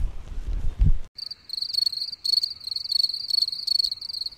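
Crickets chirp in a steady pulsing trill after a brief low rumble, fairly near and clear with no talk, in an outdoor night setting.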